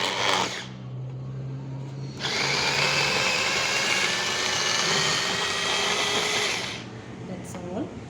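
A rechargeable electric vegetable chopper whirs loudly while chopping onion, a steady motor drone that runs for several seconds between short quieter stretches, with a voice speaking briefly near the start.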